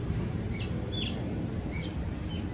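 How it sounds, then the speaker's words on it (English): Small birds give a few brief, high chirps in scattered pairs, fairly faint over a steady low rumble of background noise at an animal park. "You hear little chirps?"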